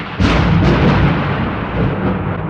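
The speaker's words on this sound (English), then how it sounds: "As they set off, a huge storm broke." Thunder from a huge storm breaking over a forest: a sudden loud, sustained rumbling roll that swells in and holds at a steady, heavy level for over two seconds.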